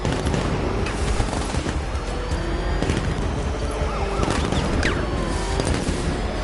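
Enemy guards open fire in Batman: Arkham Knight, a dense, continuous clatter of gunshots mixed with blaring alarm-like tones and chaotic game ambience, loud and steady throughout.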